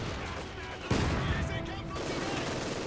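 Machine gun and rifle fire in a Company of Heroes 2 battle between Soviet and Wehrmacht troops, a continuous rattling barrage that swells sharply partway through and stays loud and dense to the end.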